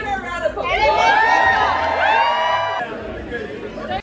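Crowd cheering for a singer, loud whoops and high voices rising together with excited chatter, close and sustained for nearly three seconds before dropping to murmuring.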